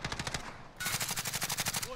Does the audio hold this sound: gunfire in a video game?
yes